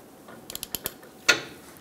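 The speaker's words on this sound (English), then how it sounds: "I'm going to torque it on the nut side" A torque wrench ratchets on the nut of a lower shock absorber bolt on a 2007-2014 Chevrolet Silverado 2500 HD, giving a few quick soft clicks and then one sharper metallic snap, close and brief in a quiet space.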